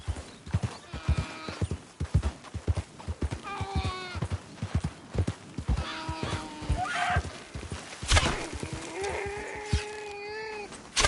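A horse being ridden in Red Dead Redemption 2, heard as steady clip-clopping hooves close by, with repeated whinnies and snorts over them and a voice speaking briefly.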